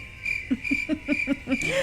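A cricket chirp sound effect plays as a steady high trill with evenly pulsed low chirps repeating about five times a second, close and clear with no talk.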